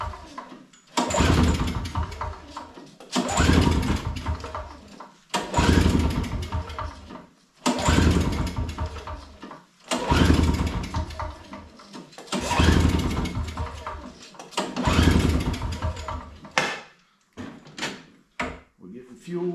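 An old Craftsman two-stroke snow blower is pull-started again and again: about seven loud, ripping recoil pulls at a steady rhythm, then a few quicker, shorter tugs at the end, with the engine never catching.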